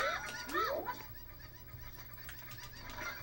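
Cuccos, the chickens in the video game Ocarina of Time, give a couple of squawking, honk-like cries near the start, then a low steady background hum with faint game noises continues.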